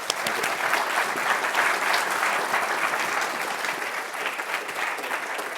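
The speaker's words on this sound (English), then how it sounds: "give Steve a big round of applause." Sustained applause from an audience after a university fireside chat on entrepreneurship education, dense and even clapping that holds steady for several seconds, heard alone without speech.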